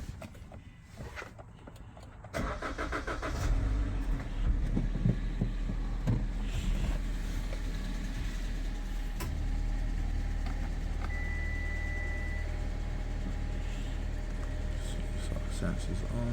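2016 Suzuki Vitara engine cranking and catching after a couple of seconds, then settling into a steady low idle close by, with someone speaking faintly over it.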